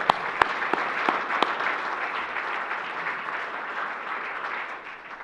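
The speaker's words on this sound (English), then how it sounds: "Let's give EJ and Jeremiah one more round of applause." Audience applause after the 2021 Asa S. Bushnell Cup presentation, a steady wash of many hands clapping with a few sharp near claps at the start, continuing evenly and thinning slightly at the end.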